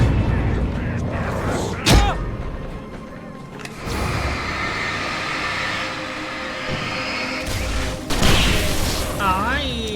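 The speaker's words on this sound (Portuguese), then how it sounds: "Ai, por que ele deu o tiro do sinalizador, cara?" A flare gun fired in the video game Alan Wake, with sharp loud bangs followed by a bright, hissing burn that swells and fades, over a low ambient rumble.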